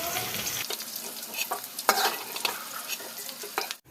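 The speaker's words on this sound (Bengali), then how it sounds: "বন্ধুরা দেখুন ক্যাপসিকাম আর পেঁয়াজগুলো আমি এরকম হালকাই ভেজে নিচ্ছি" Capsicum and onions fry lightly in oil in a pan. A close, crackling sizzle carries on throughout, broken by bursts of stirring and scraping, and ends with a sudden cutoff.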